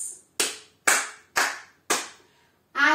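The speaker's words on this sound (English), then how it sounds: "Instead of two claps, you're going to give me four claps." A line dancer gives four sharp hand claps, evenly spaced and close, with short decaying echoes in a quiet room. A brief different sound comes in at the very end.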